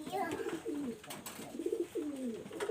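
A red-necked male pigeon coos in repeated rolling phrases, close and fairly quiet, with brief pauses between the calls.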